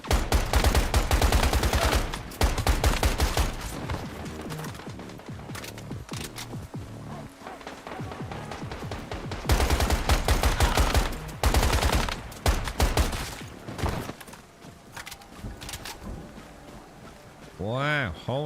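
Bursts of rapid AK rifle fire ring out in the video game Once Human, dense and loud, with short pauses between volleys and a voice talking over parts of the shooting.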